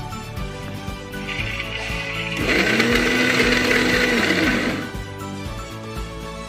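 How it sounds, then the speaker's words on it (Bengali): Soaked red lentils (masoor dal) whirring in an electric grinder jar into paste, a steady loud motor drone that swells for a couple of seconds in the middle and then eases back to a lower hum. "ভিজিয়ে রাখার পর ওটাকে ভালোভাবে ধুয়ে বেটে নেব।"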